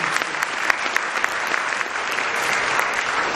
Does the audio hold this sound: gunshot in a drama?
no